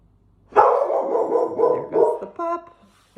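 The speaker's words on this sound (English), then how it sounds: "dogs barking, just allow yourself to hear it and then keep going" A dog barks and yelps repeatedly in a close, loud burst of several harmonic cries, ending with a couple of shorter, higher yips.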